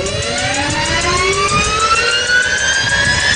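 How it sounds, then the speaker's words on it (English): Close, loud turbine engine of a turbine-powered Batmobile, a high-pitched whine that climbs steadily in pitch over a dense roaring rush, continuous for a few seconds. "This is the world's only turbine-powered Batmobile."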